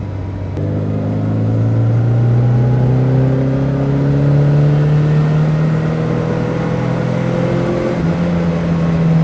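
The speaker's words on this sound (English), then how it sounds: "Let's just rev it out a little bit" A loud classic Morris Mini Cooper S race car engine pulls hard, its pitch climbing steadily through the rev range, then briefly dropping and rising again as it shifts.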